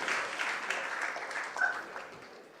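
Audience applause at a live hackathon event, a steady dense wash of many hands clapping that swells slightly mid-way and then gradually thins out.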